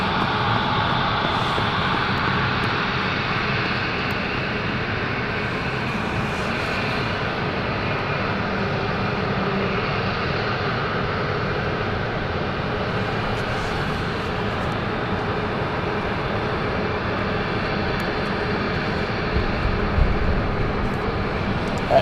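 Aircraft engines run at London City Airport, making a continuous broad roar that holds steady throughout, moderately loud and somewhat distant.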